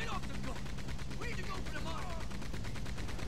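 Gunfire in Red Dead Redemption 2 during first-person free-aim combat, a dense continuous layer of shots and crackling over a steady game soundscape, with someone talking intermittently.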